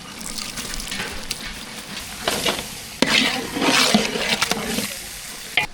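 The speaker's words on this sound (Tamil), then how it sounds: "முட்டை நல்லா அலசியாச்சு" Water runs and splashes close by as eggs are rinsed in a kitchen, with a continuous gushing flow and a few louder surges and clunks, no voices.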